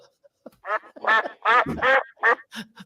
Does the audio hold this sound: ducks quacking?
yes